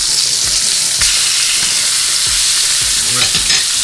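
Redfish sears in blackening seasoning in a hot pan, giving a loud, steady sizzle and crackle with periodic scraping stirs, close and continuous with no voices.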